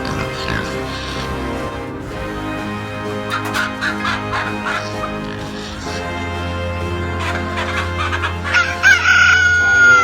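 A rooster crows loudly near the end, its long harmonic call rising over a busy farmyard din of other birds and background noise.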